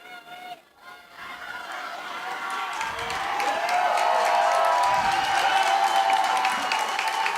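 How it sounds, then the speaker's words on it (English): A crowd in the stands at a Skyline vs Eastlake lacrosse state championship cheers and applauds, the noise swelling after a brief dip into a sustained roar with scattered claps. "Everyone's cheering in the stands."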